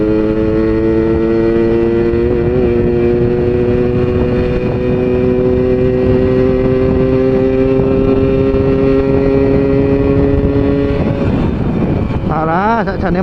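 A motorcycle with a 72% ported exhaust accelerates hard in third gear, its loud, rising engine whine held steady for about eleven seconds before the revs drop and climb again for a shift.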